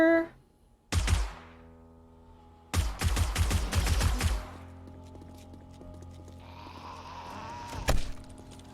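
Turret gunfire in the zombie survival game 7 Days to Die: a short burst of sharp shots, a pause, then a longer rapid volley of loud, close cracks that trails off into faint rumbling.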